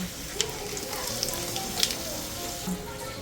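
Mustard seeds and dried red chilli sizzling in hot oil for a Kerala yam stem sambar tempering, a continuous close crackle with a few sharp pops of bursting seeds.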